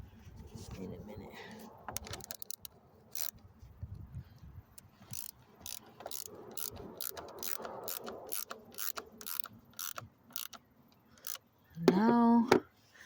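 Ratchet wrench tightening a car battery terminal, giving a series of sharp rhythmic clicks, close by, with a voice briefly speaking near the end.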